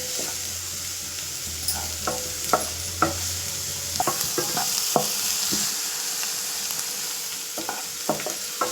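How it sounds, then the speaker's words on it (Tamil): Onions frying in hot butter, a steady sizzle with scattered sharp clicks and scrapes of stirring throughout, close and moderately loud with no voices. "பட்டர் காய்ந்தவுடன் வெங்காயம் போடணும்."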